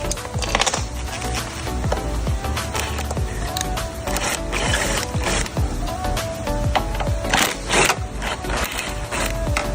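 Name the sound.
electric power tool removing 10 mm hex screws from a van door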